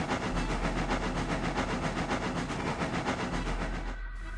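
A steam locomotive chuffs along the track in a steady, rapid rhythm of hissing exhaust beats over a low rumble, fairly close, before stopping abruptly near the end.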